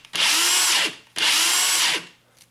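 A Dewalt DCF899 cordless impact wrench spins freely in two loud, high-pitched bursts, each winding down briefly after the trigger is released.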